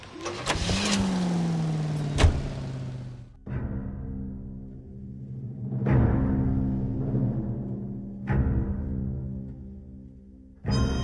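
Car in the L.A. Noire video game starting up and driving, with engine revs swelling and fading in several separate surges and sharp onset clicks between them.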